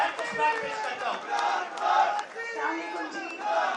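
A crowd at a political press conference cheers and claps for a woman being honoured, loud shouting and clapping swelling and dipping in waves, with voices calling out over it.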